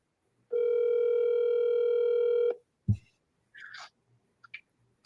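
A single long electronic telephone ringing tone on speakerphone for about two seconds, followed by a click and a few short faint chirps in quiet.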